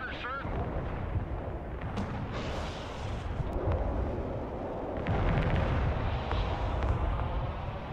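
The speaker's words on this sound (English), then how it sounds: "Rocket artillery at your order, sir." Rocket artillery salvo in the video game Broken Arrow, a dense continuous roar of launches and explosions, loud and sustained throughout with booming bursts layered together.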